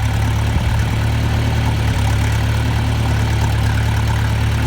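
A farm tractor idles close by with a loud, steady low rumble and constant mechanical vibration throughout, no talk over it.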